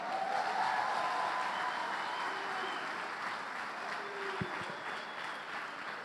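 A church congregation applauds in a steady, moderately distant wash of clapping that fades gradually, with a brief thump near the end.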